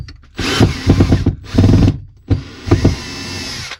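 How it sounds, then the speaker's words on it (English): A power drill drives screws into a motorhome roof fan in three bursts of whirring and ratcheting, loud and close, with brief pauses between runs as each screw seats. "Got quite a lot of screws, so I think we'll get the drill out for them."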